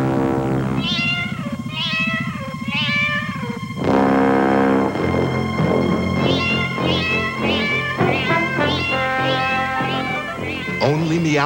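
Cats meow over and over in a rhythmic, tuneful pattern in a 1985 Meow Mix cat food commercial, loud and close, set against a backing track with steady beats.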